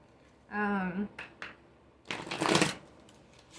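Deck of tarot cards being shuffled, a short riffle and a longer rustling burst up close, following a brief voice at the start.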